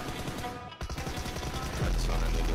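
Rapid automatic gunfire in the mobile battle-royale game PUBG Mobile, a dense burst of shots continuing steadily throughout, with a heavier low rumble joining near the end.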